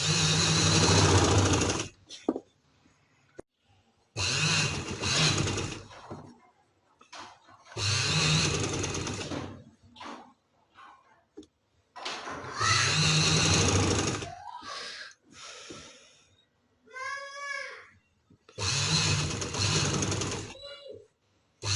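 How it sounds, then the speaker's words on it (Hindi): A sewing machine stitches a neckline in loud, steady bursts of a few seconds each, separated by short pauses and small handling clicks. "इस तरह से हमने ये सिलाई लगा ली।"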